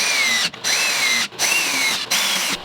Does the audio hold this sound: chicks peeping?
no